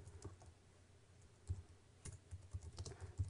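Quiet, fast typing on a computer keyboard, with irregular soft key clicks and a few louder taps, heard on its own with no voices.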